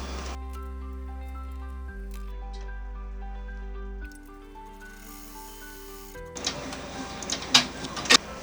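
An embroidery machine runs a placement stitch for the centre of a felt cauldron design on a Halloween treat bag, giving steady tonal motor hums that shift pitch, followed by sharper clicks and taps.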